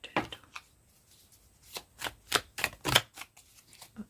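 Tarot cards riffle and slap in a quiet room in short soft bursts, some gaps between them, and a louder flurry near the end.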